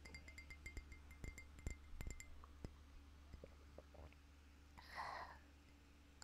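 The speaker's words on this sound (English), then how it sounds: "Okay, I'm gonna hydrate a little bit." Cold water sipped from a glass in a quiet room: soft clinks of the glass and a few faint sips, followed by a gentle breathy swallow or exhale, all very quiet and close.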